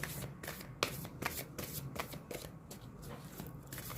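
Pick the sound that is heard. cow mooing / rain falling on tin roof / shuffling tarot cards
shuffling tarot cards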